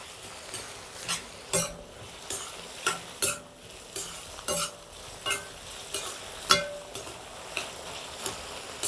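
Onions and tomatoes sautéing in a pan for a village-style chicken gravy, with a steady sizzle under repeated sharp scrapes and clinks of a spoon stirring against the metal pan, close and rhythmic.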